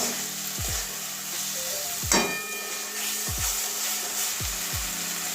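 Soya chunks stir-fried with spices in a pan give a steady sizzle, broken by several scraping strokes of a spatula against the metal.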